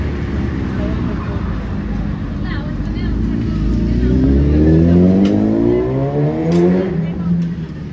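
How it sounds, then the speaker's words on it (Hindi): A Yamaha RX100 two-stroke motorbike revs loudly and close by outside a riders' cafe near Bangalore, its engine pitch climbing steeply and then falling, with traffic noise in the background. "ये मस्त मस्त बाइक है। अभी इनकी साउंड सुनाता हूँ आपको।"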